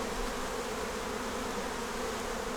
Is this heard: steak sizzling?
no